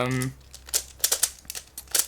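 A Dayan Gem II twisty puzzle being turned by hand gives a quick, irregular series of crisp clicks, close and fairly quiet, just after a brief voice.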